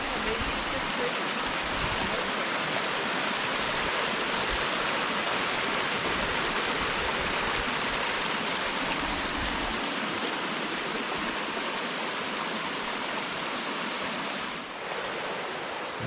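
Creek rushing far below a narrow mountain trail on the way down toward Comer's Creek Falls, a steady broad wash of flowing water that holds evenly throughout, then dips briefly near the end.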